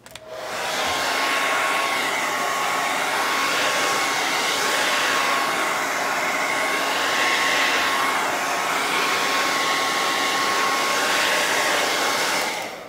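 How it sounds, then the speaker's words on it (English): A blow dryer drying wet paint on a stencilled stove top cover noodle board blows with a loud, steady whir that runs unbroken for the whole stretch, close by, with no talking. "Let me give it one more shot with the blow dryer."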